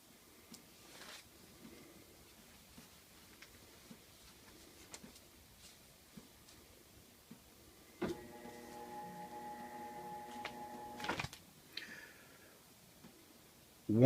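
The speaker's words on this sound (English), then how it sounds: "You will hear a click, the basket will make a slight turn, and the lid will unlock briefly before locking again." A top-load washing machine runs its lid-lock self-test in a quiet room: faint clicks, then a short motor hum as the basket turns for a few seconds, followed by more clicks and a thump.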